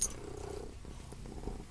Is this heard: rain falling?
no